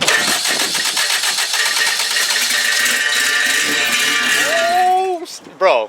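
A Honda K20 engine swapped into an EK hatchback cranks and catches, running loud and rough with steady revving throughout before the sound cuts off near the end, followed by a brief burst of voices.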